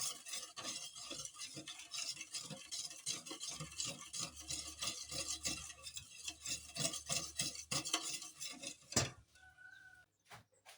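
A whisk beats doughnut batter in a bowl with melted butter added, giving a steady run of quick scraping, clinking strokes, close and fairly loud, before it stops near the end with a few isolated knocks.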